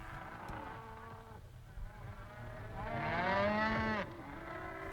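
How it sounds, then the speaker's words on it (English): A cow lows in several drawn-out moos, the loudest swelling near the end, heard clearly against a quiet rural background with no talking. "The cow became a very useful animal."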